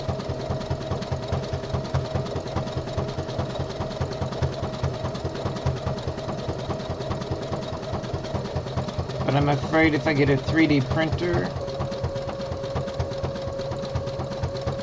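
A home sewing machine stitches a boxer brief body panel with a steady mechanical hum and rapid needle chatter throughout, while a person talks over it.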